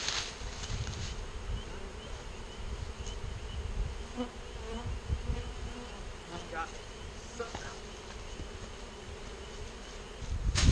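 Honeybees buzzing densely around a hive as a continuous close drone, with rustling handling noises over it and faint bits of voice.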